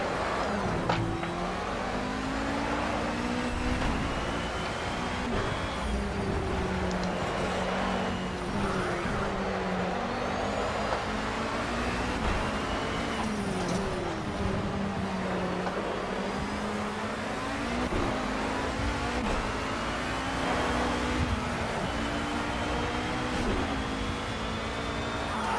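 A GT touring race car at Sonoma in Project CARS, its engine droning loud and steady at high revs with shifting pitch through corners and acceleration, joined by other cars and some tire noise, continuous throughout.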